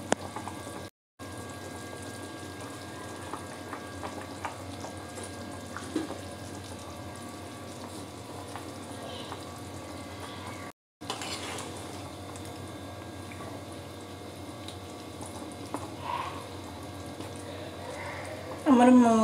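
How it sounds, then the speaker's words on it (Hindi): Water comes to the boil in a pot for a fish and potato curry, giving soft, continuous bubbling and simmering, with kitchen sounds and a faint voice at times and two brief dropouts. "एबे हमर पानी फुटिलानी।"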